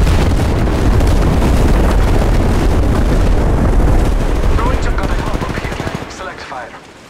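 A sustained, loud barrage of rapid gunfire and explosive booms in the Apex Legends Mobile game, continuous for several seconds before tapering off toward the end.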